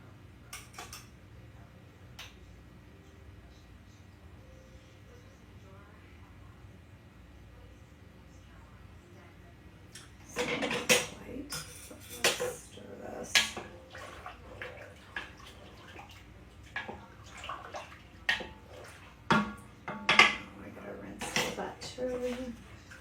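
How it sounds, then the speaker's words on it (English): Butter being rinsed with water in a bowl, with splashing, clinking and sloshing bursts that start midway after a quiet stretch, up close over a low steady background hum. "So next I'm gonna rinse the butter."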